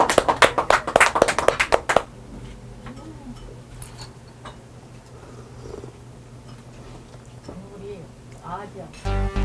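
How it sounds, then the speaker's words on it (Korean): A short burst of clapping rises from diners at a Mapo-gu Chinese restaurant during a liquor-paired course dinner. The applause lasts about two seconds, then fades into quieter room ambience with people talking. "이럴 때 박수가 나야 돼요, 박수가"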